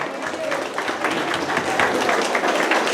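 Church congregation in Cajamarca clapping together in praise, sustained crowd applause with voices mixed in, loud and close throughout.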